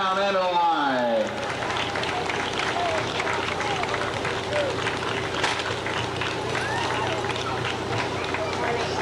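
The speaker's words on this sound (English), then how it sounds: "A nice round of applause" A voice speaks briefly, then scattered clapping and crowd noise continue outdoors at a bicentennial parade in Halifax, 1994, moderately distant, with a few people talking underneath.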